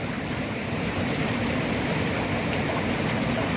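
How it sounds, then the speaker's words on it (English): Water pushing out against a wall and running down into a little creek, a steady, dense rushing and splashing that stays even and close throughout, with no voices over it. "It's not splashing up at me, it's staying down and flowing into this little creek here."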